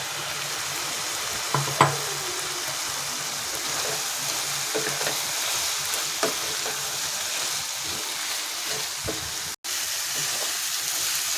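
Potatoes and pre-fried prawns fry in a pan with a steady, hissing sizzle throughout, broken by a few light clatters of stirring near the start and middle.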